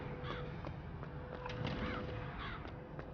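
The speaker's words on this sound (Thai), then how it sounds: "ทำไมมันมีอีกาเยอะจังวะเนี่ย" Several crows caw in BioShock Infinite, a few short harsh calls spaced through a quiet game ambience, fairly faint and distant.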